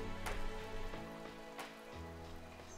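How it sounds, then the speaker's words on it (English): Rain patters steadily on a surface, a soft, faint and continuous wash with a few louder drop-like ticks scattered through, heard alone without any voices. "The rain certainly came in."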